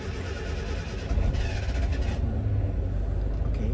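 A Suzuki Jimny Katana engine turns over without throttle and catches, a low rumble that rises around the midpoint and settles into a steady idle.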